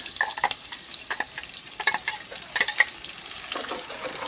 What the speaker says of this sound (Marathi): आता आपण हे तेल सुटेपर्यंत भाजून घेऊया